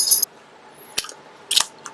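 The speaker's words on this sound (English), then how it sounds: "If you can hear any jingling in the background," Two bright metallic jingles of a dog's tags clinking together, separated by a short pause, close and fairly loud over quiet background.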